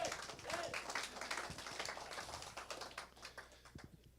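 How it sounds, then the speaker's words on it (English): Members of a woodworkers' guild meeting give a dense round of clapping that carries steadily, then thins and fades toward the end. "It's always nice when you pander for applause and then you get it"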